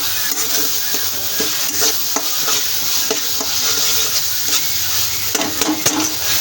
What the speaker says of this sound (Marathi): तेल सुटेपर्यंत चांगलं तळून घ्यायचं